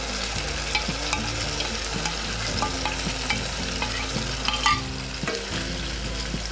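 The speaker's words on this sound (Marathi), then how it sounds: "त्याला व्यवस्थित मिक्स करून घेऊयात." Dum aloo is stirred with prepared masala in a pan, with repeated spatula scrapes and knocks over a constant frying sizzle, close and steady.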